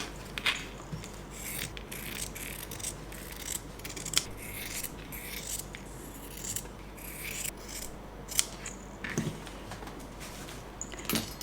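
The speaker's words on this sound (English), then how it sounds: "we are going to cut the circle shape." Scissors snip through fabric along a circle-shaped template for a butterfly bow hair clip, giving close, crisp, irregular cuts with soft rubbing of cloth between the snips.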